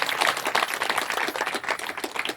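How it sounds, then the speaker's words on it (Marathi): An audience claps together at a Marathi devotional discourse event, a dense burst of hand clapping that stays loud and even for a couple of seconds, with no talking over it. "जोरदार टाळ्या वाजवा"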